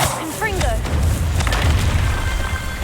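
A Confringo fire spell exploding in the Hogwarts Legacy game, a loud, deep booming blast with rumbling low end, accompanied by brief whooshing spell effects and a voice.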